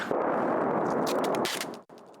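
Shelling blasts in wartime Bakhmut, a loud continuous roar of broad noise with sharp bursts through the middle, dropping away abruptly near the end before a quieter tail.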